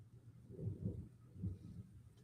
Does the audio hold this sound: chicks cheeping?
no